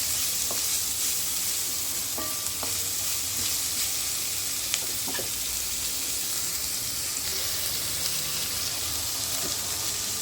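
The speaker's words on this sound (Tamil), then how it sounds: "நல்லா வதங்கி இன்னும் கொஞ்சம் வதங்கணும்" Onions sautéing in a pan for a coconut milk gravy, a steady soft sizzle with occasional stirring scrapes throughout, no talking.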